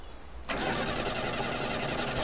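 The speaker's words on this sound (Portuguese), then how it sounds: "Ligar o carro com isso." A car engine in Life is Strange: Before the Storm cranks and catches after a brief quiet stretch, then settles into a loud, steady running rumble close by.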